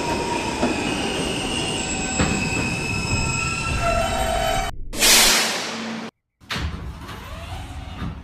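R160 F local subway train arriving at Ridgeworth Island - Visian Ave station, loud rumbling and rail noise with high wheel squeal and clatter, then a sharp burst of hissing air brakes, a short dropout, and quieter running sounds.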